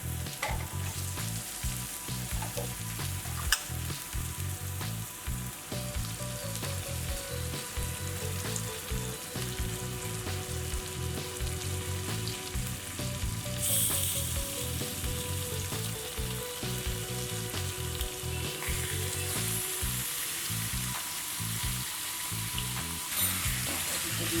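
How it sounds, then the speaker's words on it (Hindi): Turmeric-coated fish frying in hot oil in a pan for a Bengali fish curry, a continuous close sizzle and crackle holding steady throughout, with a low background hum and no talking. "इसमें हम डालेंगे फिश, जिसको हल्दी लगा के मैंने रखी हुई है।"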